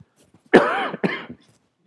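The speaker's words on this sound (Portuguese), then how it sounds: "Infelizmente, a gente às vezes tem que tossir." A person coughs twice in quick succession, up close, the first burst loud and rasping, the second shorter, with quiet room around them.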